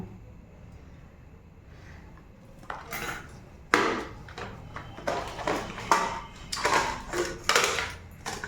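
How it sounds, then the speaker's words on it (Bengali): Two steel plates clatter and clink against each other in a series of sharp, close knocks, growing busier after a quiet start. "আর এই যে দেখো স্টিলের প্লেট নিয়ে এসেছি দুটো"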